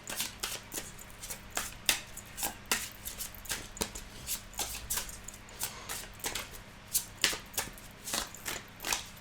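A deck of oracle cards being shuffled by hand in a quiet room, a steady run of soft, crisp riffling flicks repeating in quick rhythm, close and fairly quiet, with no talking.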